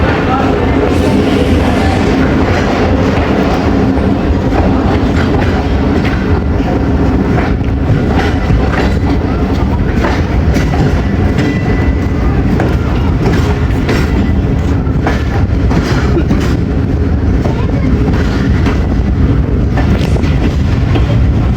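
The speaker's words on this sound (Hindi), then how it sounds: "अटक सिटी जंक्शन से डिपार्ट हो रही है ट्रेन हमारी" Awam Express passenger train pulling out of Attock City Junction, with steady loud rumbling and rhythmic wheel clatter running throughout, plus wind buffeting on the microphone.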